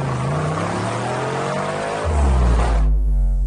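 The Batmobile from The Batman drives during testing, its engine roaring loud and close, then swelling into a deeper, heavier rumble before the sound cuts off abruptly.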